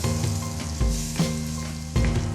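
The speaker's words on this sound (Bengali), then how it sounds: "দেব ভালো করে মশলার গোলাটা এই তেলের মধ্যে মিশিয়ে দেবো" Spice paste for hilsa curry sizzling hard in hot oil, a loud, close, continuous fry broken by a few stirring strokes through the pan.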